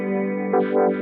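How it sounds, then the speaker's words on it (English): A held distorted electric guitar chord through a dirty preamp with a Univibe effect on a Boss GT-10, swirling, pulsing modulation that throbs twice in quick waves, loud and close. "so I've got a dirty preamp with the Univibe on it"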